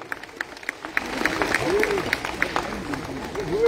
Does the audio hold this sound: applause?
yes